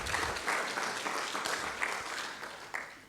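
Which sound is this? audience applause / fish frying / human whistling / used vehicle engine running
audience applause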